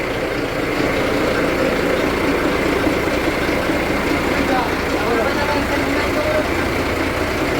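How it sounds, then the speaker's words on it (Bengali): A generator drones loud and continuous in the kitchen of a launch boat travelling toward the Sundarbans, a steady low rumble that never lets up. "রান্নাঘরে এত জেনারেটরের আওয়াজ আর গরম"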